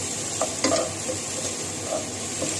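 Chicken and spices frying in a pan with potatoes, cauliflower and onion, a continuous near sizzle broken by a few sharper stirring scrapes and clinks, with no talk.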